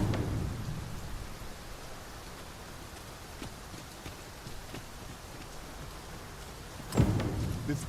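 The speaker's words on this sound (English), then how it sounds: "This downpour seems unlikely to abate." Steady video game rain hisses at moderate volume throughout in Dragon's Dogma 2, with occasional soft knocks and a sharper thud near the end.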